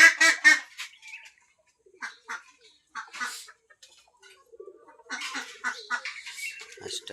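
A native domestic duck quacks in short honking bursts, loud and close at first, then in scattered calls with gaps of quiet, a few bursts clustered together near the end.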